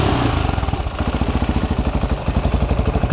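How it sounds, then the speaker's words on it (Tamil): A used motorcycle named Imperial idles nearby, a loud, steady, rapid thumping beat with evenly spaced pulses and no talking. "அதாவது இந்த இன்ஜின் சவுண்டு வந்து சூப்பராக இருக்குது."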